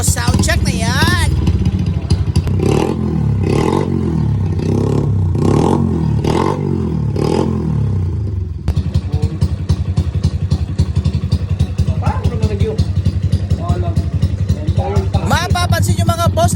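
Motorcycle engine fitted with a borrowed aftermarket muffler made for a Wave 125, revved in loud repeated bursts and then held at a steady drone, with people talking over it.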